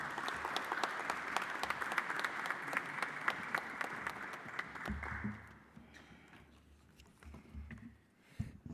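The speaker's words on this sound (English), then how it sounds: "Please welcome her with a hand of applause." Sustained applause from a conference audience welcoming a speaker at a regional annual general meeting, dense clapping that runs steadily for about five seconds, then thins into scattered claps and room murmur.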